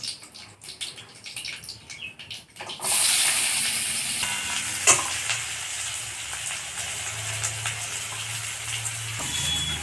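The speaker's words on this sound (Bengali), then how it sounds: "কালো জিরে ফোড়ন দিলাম, তারপর এই পেঁয়াজগুলো দিয়ে দেবো" Onions hit hot oil seasoned with black cumin seeds, setting off a sudden loud sizzle that keeps up as a steady frying hiss with occasional stirring clinks, after a quieter stretch of kitchen noise.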